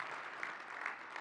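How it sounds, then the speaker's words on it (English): An audience at a conference applauds, a steady, fairly faint patter of many hands clapping at once with no voices over it. "So I think we should all give yourselves an applause for what we've done in 4 years."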